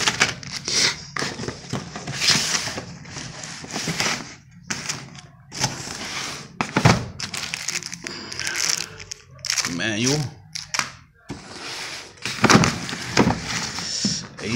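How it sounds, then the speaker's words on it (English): Cardboard box holding an AC Delco digital torque wrench being opened, with crinkling, tearing and thunking handling sounds in short bursts, mixed with someone talking nearby. "Let me get this box open"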